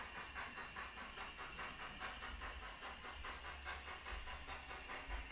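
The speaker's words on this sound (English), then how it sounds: "you should be able to see the 25 backing up onto the goods train there" Steam locomotive number 25 backs up onto a goods train, giving a steady close hiss with faint rhythmic chuffing pulses throughout.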